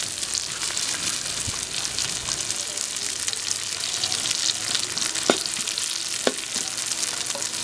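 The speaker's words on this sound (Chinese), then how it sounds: "把辣椒也炒一下。" Chili peppers stir-fry with fermented black beans in a hot wok: a continuous bright sizzle with scraping stirs and a couple of sharp utensil clicks, close up, with no voices.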